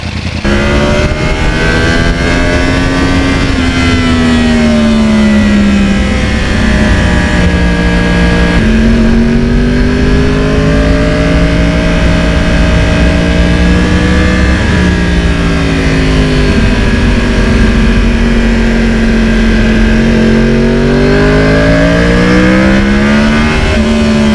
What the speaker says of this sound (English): When you back off the gas at high RPM, I love that cross-plane sound.